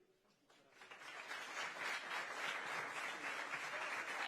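Large outdoor crowd at World Youth Day in Lisbon applauding Pope Francis, the clapping swelling up from quiet into a steady, broad wash of many hands, heard at a distance.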